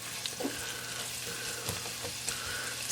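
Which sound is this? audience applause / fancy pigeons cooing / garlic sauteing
garlic sauteing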